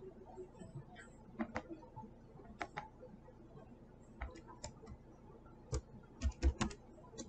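Keystrokes on a computer keyboard while values are entered into a Microsoft PowerPoint chart, sparse irregular clicks and short bursts of taps, close and fairly quiet over a low background hum.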